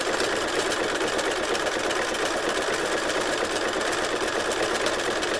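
A sewing machine stitches an appliqué in a fast, even, continuous whir of needle strokes, close and steady throughout with no talking.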